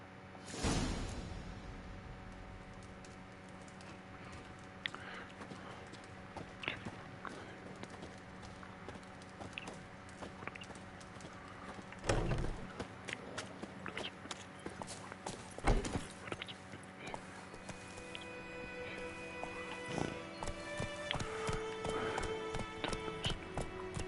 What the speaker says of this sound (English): I just want to giddy up on my horsey